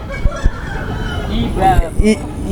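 A rooster gives a loud, close crow with drawn-out harmonic calls, mixed with other chicken sounds and background noise.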